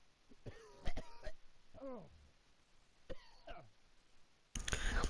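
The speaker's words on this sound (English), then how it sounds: "I needed to cough really bad" A person coughing several times in a quiet room, sharp bursts spaced irregularly with strained throaty sounds between them, fairly faint and close.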